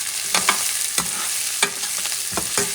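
Pitted olives are sautéed in a hot pan for a spicy pork chop fricassee, with a steady loud sizzle and occasional scraping stirs of a utensil against the pan, close up and with no voices.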